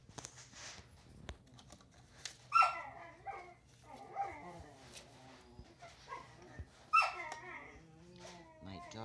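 Two puppies, a collie and a German Shepherd, give a few short, sharp barks and yelps at moderate distance, scattered over faint background noise in a quiet indoor craft setting.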